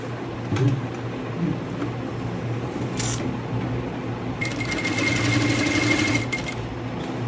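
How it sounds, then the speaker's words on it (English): A sewing machine stitches a fabric strip onto a dress, its needle whirring in a steady mechanical buzz that starts partway through and runs close and continuous to the end, over a quiet room. "Put a strip of fabric and then I will start to sew it down like this."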